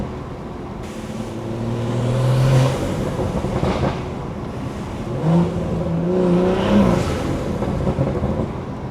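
A BMW with a Stage 2 tuned B58 engine, heard from the driver's seat, builds through two strong revving pulls, its rising exhaust note swelling loud, then easing back into a deep drone.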